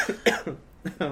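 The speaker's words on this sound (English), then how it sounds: "I've had this cough for like 2 months." A few sharp coughs from a lingering months-long cough, close to the mic, about four bursts in quick succession with a short pause before the last ones.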